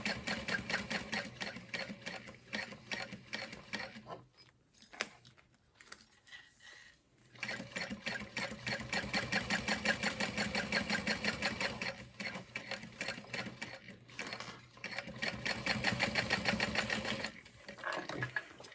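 A sewing machine runs top stitching at a 4.5 stitch length around the flap of a Flair crossbody bag, giving long steady whirring runs close by, with a short pause partway through before it resumes.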